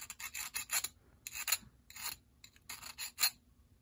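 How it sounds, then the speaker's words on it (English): Metal file rasping flash off metal Athearn RDC model train parts, short gentle back-and-forth strokes in quick bursts with brief pauses, close and fairly quiet. "There's very little to file off around here, so I'm just going over it gently."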